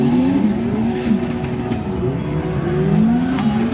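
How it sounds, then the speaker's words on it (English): A turbo K-series Honda S2000 and a turbocharged Miata battle side by side in a drift competition, engines roaring and revving loudly with rising and falling pitch and a continuous tire hiss underneath, no voices. "Two very fast cars in drift."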